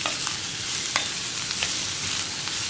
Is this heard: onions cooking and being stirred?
yes